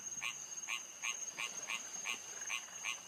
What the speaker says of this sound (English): Oh, there it goes. The first frog.